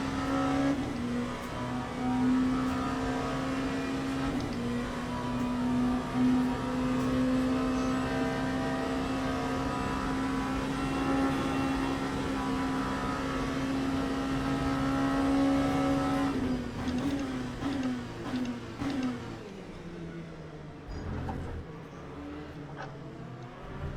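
Race car engines in the sim racing game Le Mans Ultimate: a sustained, loud, droning engine note with shifting pitch as cars run on track, easing and breaking up near the end.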